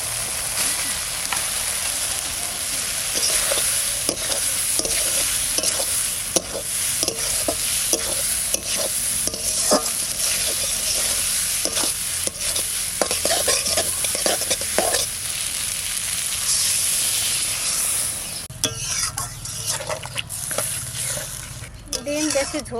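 Potatoes sizzle in a fried spice paste for duck egg curry while being stirred, with rapid, repeated spatula scrapes and taps over a constant loud frying hiss, then a brief change in texture near the end.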